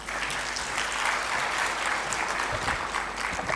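Steady audience applause fills a conference hall at an African reinsurance forum, dense and continuous from start to finish with no pauses, with no individual voices standing out from the clapping.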